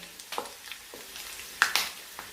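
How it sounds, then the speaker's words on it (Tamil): Cashew nuts dropped into hot oil for ven pongal sizzle and crackle in short, fairly quiet bursts, with a couple of sharper spits near the end. "அடுப்பை ஆஃப் பண்ணிவிட்டு நீங்கள் இந்த முந்திரி பருப்பை ஆட் பண்ணுங்கள்"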